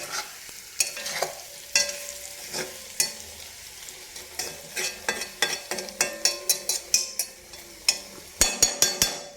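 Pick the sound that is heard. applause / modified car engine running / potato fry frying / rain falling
potato fry frying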